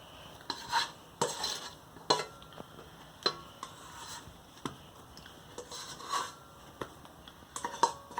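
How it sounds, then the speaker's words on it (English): Sourdough dough being scraped out of a bowl onto a counter with a bench scraper, giving scattered soft scrapes and a few sharper knocks of the blade against the bowl, close by and without talk. "Just scrape it. All the dough right out onto the counter."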